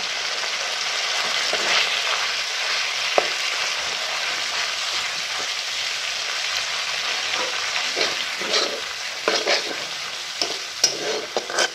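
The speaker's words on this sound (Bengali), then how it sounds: "এই সময় গ্যাসের ফ্লেমটা মিডিয়াম রেখে আস্তে আস্তে মশলাগুলো কষিয়ে নেব।" Ground spices such as turmeric, chilli and cumin fry and are stirred in a pan over a medium gas flame for an aloo potol dish, giving a steady soft sizzle with scraping stirs that pick up toward the end.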